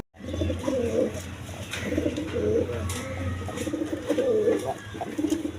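A male Indian Bombay pigeon coos up close in repeated throaty rolling phrases, several in a row, over a low background hum and scattered bird chirps.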